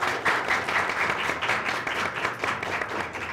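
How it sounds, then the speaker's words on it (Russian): Audience applause at a live political debate event, dense steady clapping from a crowd heard alone at moderate level, sustained for a few seconds without talk. "Ваши аплодисменты."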